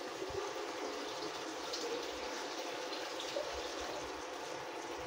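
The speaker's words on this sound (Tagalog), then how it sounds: "Konting tubig lang dadagdag natin," Water pours steadily into a pot of squash and string beans cooking in coconut milk, a continuous soft gushing hiss with no talking.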